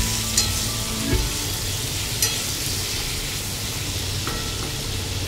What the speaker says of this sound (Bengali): দিয়ে আলুটাকে ভালো করে নেড়ে নেব।